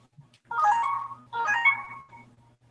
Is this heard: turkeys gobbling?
no